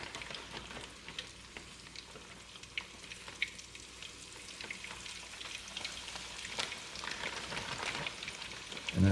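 Parmesan-coated flounder fillets pan frying, the thick pieces laid in first, giving a quiet, even sizzle like light rain with occasional soft clicks and a louder bump at the very end.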